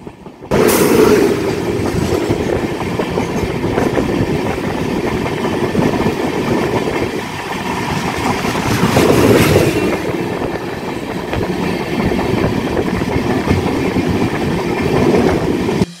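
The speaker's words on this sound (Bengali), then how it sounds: "আমাদের সাথে ক্রসিং হতে চলেছে ইস্ট কোস্ট এক্সপ্রেসের" The East Coast Express rumbles past close by for a long stretch near Kharagpur Junction, wheels clattering rhythmically over the rails with a steady heavy roar.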